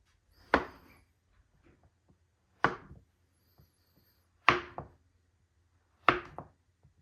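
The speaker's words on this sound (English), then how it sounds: "So I'm going to slice this all up" Four knife cuts through rocky road and peanut butter fudge, each a sharp thunk on a cutting board spaced roughly two seconds apart, close and clear with quiet pauses between.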